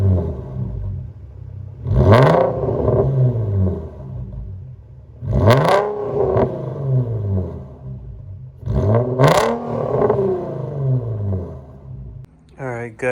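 An Infiniti G35 fitted with Motordyne art pipes, a Megan Y-pipe, a resonator and a muffler revs three times, each blip climbing higher, to roughly 3,000, 4,000 and 5,000 rpm. Each rev is a loud, rising roar that falls back to idle.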